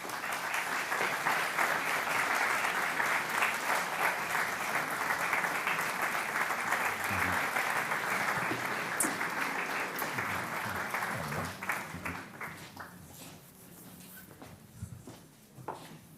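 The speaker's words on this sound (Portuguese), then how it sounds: "Peço, por favor, uma salva de palmas para os nossos convidados." An audience at a literary conversation event in Porto applauds its guests with sustained, dense clapping that holds strong for about twelve seconds, then thins to scattered claps and fades.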